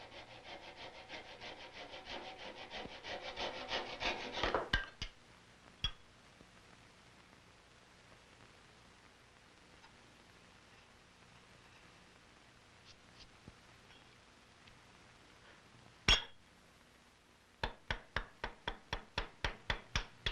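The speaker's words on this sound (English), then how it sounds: "Keeping the chisel very sharp is important while cutting hard maple on the end grain." A sharp chisel pares hard maple end grain on a flintlock rifle stock: rapid rasping strokes at first, then quiet with a few isolated taps, ending in a quick run of crisp rhythmic cuts, close and clear.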